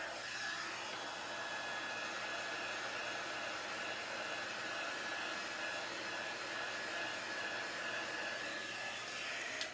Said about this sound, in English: I am using a heat tool to dry these